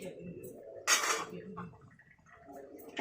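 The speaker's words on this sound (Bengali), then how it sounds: "এবার ঢাকা দিয়ে দেবো।" A metal lid clanks down onto a pot of mixed boiled vegetables, one bright clattering hit followed by a short rattle and soft kitchen sounds, with faint talk around it.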